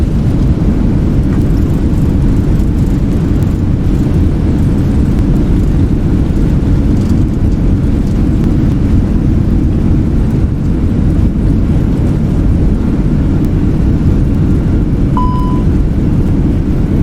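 Airbus A321 on landing rollout in a flight simulator, reverse thrust roaring as a broad, steady, loud rumble that fills the whole stretch, with a brief tone near the end.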